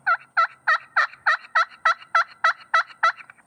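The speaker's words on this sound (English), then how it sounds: "So let's start with the yelping here." A push pin turkey call produces a steady series of about twelve evenly spaced hen yelps, crisp, close and alone, each a short two-note rasp.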